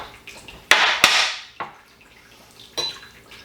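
Blood Oath Pact No. 8 bourbon, 98.6 proof and finished in Calvados casks, is poured into a glass: sharp clinks and a short splashing trickle, then a few softer drips and taps, close and fairly quiet.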